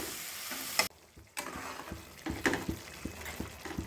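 Masala paste with cinnamon and clove paste sizzles as it deep-fries in hot oil for a prawn curry. The sizzle is loud and close, broken by a brief pause and repeated stirring scrapes.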